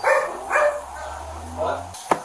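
Dogs at home giving a few short barks and yips, close and fairly loud, spaced across a couple of seconds over a steady low hum, with a sharp bark near the end.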